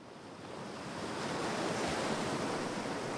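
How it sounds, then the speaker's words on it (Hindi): Flood water rushes through a destroyed city in the City Smash video game, a steady broadband roar like crashing surf that swells slightly and holds loud throughout, with no talking. "ये पानी आ गया, पूरी बाढ़ आ गई है अब।"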